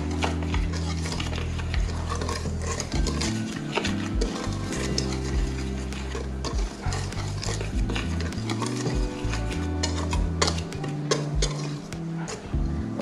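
A whisk mixes butter and sugar for mini donut batter, producing rapid, repeated metallic clinks and scraping against the bowl, steady and close throughout.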